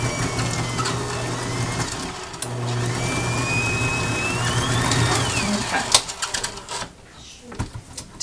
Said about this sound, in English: I will lift the beaters just out slightly and let the machine